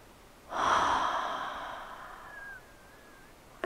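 A single slow, deep exhale during restorative yoga, a soft airy breath that swells and then fades, with a faint thin whistle near its end, quiet and alone.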